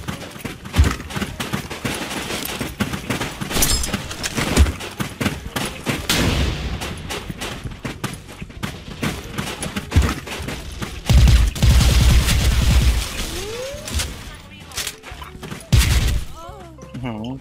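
Suppressed M4A1 ACOG rifle firing in Special Force 2, with bursts of rapid muffled shots and scattered single shots mixed with game effects, while someone talks throughout.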